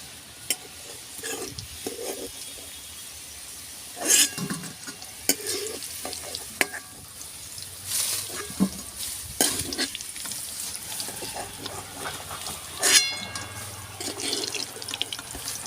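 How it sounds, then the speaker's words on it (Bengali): Potatoes frying in oil in a pan while a jackfruit curry is being made, a steady sizzle broken by sharp scrapes and clatters of a spatula turning the pieces, close and fairly loud, with no talking. "আমি এইভাবে আলুগুলো ভেজে নিয়েছি,"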